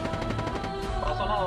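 Gunfire from a shotgun in the mobile shooter Call of Duty Mobile, a dense burst of close, loud blasts running across the whole moment with game sounds layered underneath.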